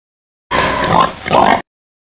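Thirty-day-old piglets at weaning time on a hog farm give a loud, close, squealing oink lasting about a second, with two rising peaks, alone against silence.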